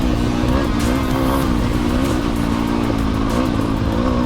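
A Sherco 300 SEF dirt bike runs under way, its engine a loud, steady, buzzing drone that holds for the whole stretch with no pauses.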